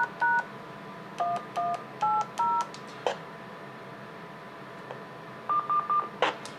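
DTMF keypad tones sent over a radio link to set a simplex repeater's transmit level, a run of short two-tone beeps in uneven groups with a few clicks and static bursts, clear and close, with no talking.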